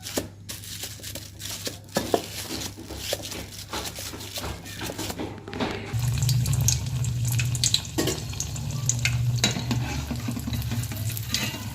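Athirasam dough dropped into moderately hot oil for frying, a broadband sizzle that swells louder and denser about halfway through, with scattered clinks and stirring noises; no talking.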